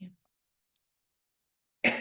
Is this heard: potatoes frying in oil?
no